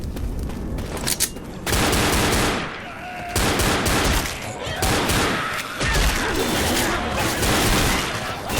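Rifle gunfire in the zombie shooter Left 4 Dead: loud, rapid bursts of shots in several volleys separated by brief lulls, with booming impacts and chaotic combat noise throughout.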